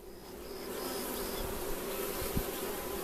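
Honeybees buzz steadily throughout a first inspection of a beehive with brood frames exposed, a dense continuous drone close by, with a few faint higher whines and a soft bump partway through.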